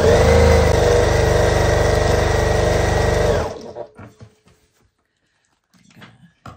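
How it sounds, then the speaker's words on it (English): A sewing machine stitches a quilt block seam, running at a loud, steady whir for about three seconds, then stopping abruptly, followed by faint handling clicks and rustles of fabric. "And then I sew that seam."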